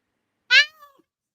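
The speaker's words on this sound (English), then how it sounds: "dang cat. I know it's because he's got food coming." A hungry cat waiting for food lets out a single loud, close meow that falls away in pitch, then goes quiet.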